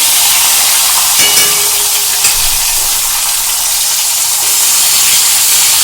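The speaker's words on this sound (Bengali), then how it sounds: "আমি দুটো মুড়ো মাছের মাথা দুটো দিয়ে দিলাম তেলের মধ্যে।" Two fish heads fry in hot mustard oil with a loud, unbroken hissing sizzle that holds steady throughout and has faint clinks near the start.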